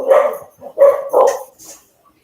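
A dog barks close and loud, a few throaty woofs in quick succession trailing into a softer yip.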